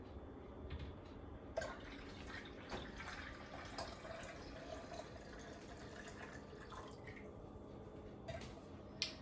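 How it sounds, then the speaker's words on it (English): Simple syrup and lemon mixture is poured into a pitcher of fresh lemonade, a soft, quiet trickle and splash with small drips, continuous and close, with no voices. "now I'm just going to add my simple syrup and lemon mixture to the pitcher"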